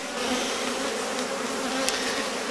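Honey bees on a frame of brood and nectar from a Rose hive, a dense continuous buzzing drone held close and steady throughout, with no voices.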